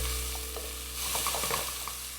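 Onion sweating in olive oil in a pan, a steady dense sizzle with soft scraping as it is stirred, continuous and close, with no voices.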